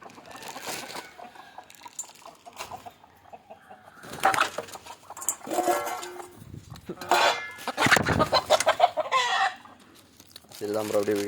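Native country chickens fed leftover worms at midday, clucking and squawking close by in bursts that grow busier toward the end, with someone talking at times among them.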